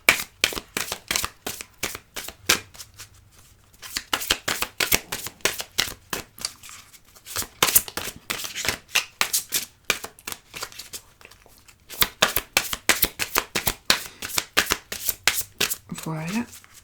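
Playing cards are cut and laid down at a breakfast card reading: rapid crisp riffling and flicking in repeated bursts, interspersed with brief pauses and soft slaps of cards placed down, with a voice speaking near the end.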